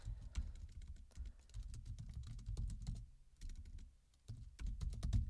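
Computer keyboard typing a Linux install command, close quiet clicks in quick irregular bursts with short pauses between words.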